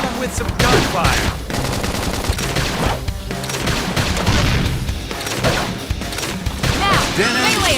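Sustained automatic gunfire rattles through a fight in the video game Xenoblade Chronicles X, dense continuous bursts with occasional impacts, loud and close, with voices calling out over it.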